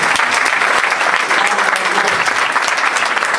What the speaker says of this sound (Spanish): Puede darle ese aplauso a Jesucristo